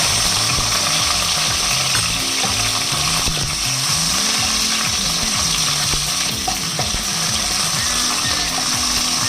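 Loud, steady sizzling of spices frying in hot oil, with bubbling crackle continuing throughout and occasional stirring clatter.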